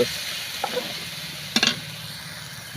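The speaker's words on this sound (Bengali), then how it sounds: "আমি এবার মিক্স করে নিচ্ছি, মানে মিশিয়ে নিচ্ছি ভালো" Chicken pieces are stirred through a spice mixture in a frying pan: a low continuous sizzle broken by a few brief utensil scrapes and clinks, without talk.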